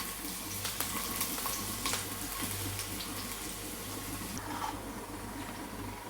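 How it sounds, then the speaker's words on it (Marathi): Garlic fries in a pan with a little oil until brown, giving a continuous, dense sizzle up close, with soft stirring scrapes and faint background hum and no talk. "आता हे बघा लसूण चांगली अशी ब्राऊन होईपर्यंत परतून घ्यायची."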